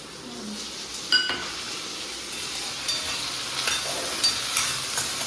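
Okra and potatoes (bhindi batata) with a little tomato sizzle steadily in a pan, a soft continuous frying hiss broken by a few faint clinks of a utensil against the pan.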